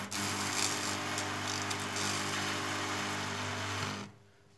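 Electric arc struck between carbon rods for a homemade arc furnace, a steady loud buzzing hum with a crackling hiss on top that holds for about four seconds and then cuts off.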